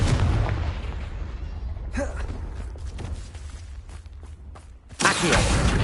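A Confringo fire spell goes off in Hogwarts Legacy, a wizarding video game, as a loud whooshing blast with a burst of roaring rumble, then fading crackles before a second powerful surge of noise.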